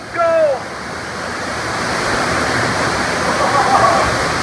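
Steady, loud rush of falling water from Donut Falls fills the whole clip, with a brief voice-like shout at the start.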